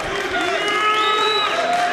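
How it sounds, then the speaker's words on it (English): Crowd at a Metamoris grappling match between Xande Ribeiro and Dean Lister, a steady murmur of spectators swelling slightly, with some tonal shouts above it and commentary talk running over the top. "Crowd getting into it a little bit."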